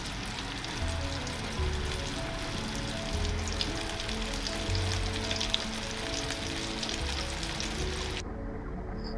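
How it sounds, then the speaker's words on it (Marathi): Chickpeas deep-frying in hot oil for crispy chana koliwada, a dense, loud, continuous crackling sizzle like heavy rain that fills the whole stretch before cutting off abruptly near the end. "चणे थोडे थोडे करून टाकून घेऊया आणि गोल्डन ब्राऊन होईपर्यंत तळून घेऊ"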